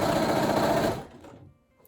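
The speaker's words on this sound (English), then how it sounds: "and now I'm going to sew." A sewing machine stitches a stretched running skirt in a fast, loud, steady mechanical whir for about a second, then stops and fades to near silence.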